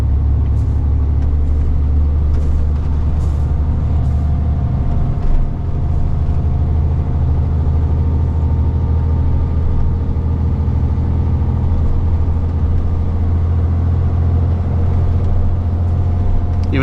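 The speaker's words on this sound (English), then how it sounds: "So the engine's working really hard, you can hear that." A heavy truck's engine labours hard up a hill on a rough road, a loud, steady low rumble that holds throughout with no break.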